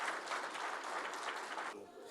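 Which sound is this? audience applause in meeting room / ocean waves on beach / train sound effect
audience applause in meeting room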